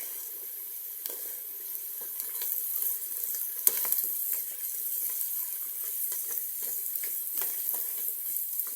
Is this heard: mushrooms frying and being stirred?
yes